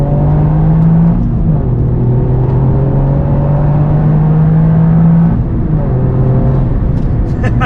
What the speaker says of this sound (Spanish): Voy a adelantar para que os hagáis una idea.